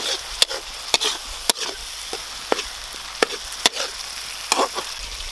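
Village-style chicken sukka being stirred in a pan with thickening masala, giving repeated sharp scraping knocks of a spoon in an irregular rhythm over a low background sizzle, close and clear, no talk.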